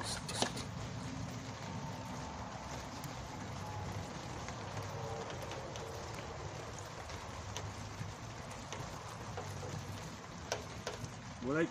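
Steady rain patters on surfaces nearby, a constant soft hiss with scattered drips throughout.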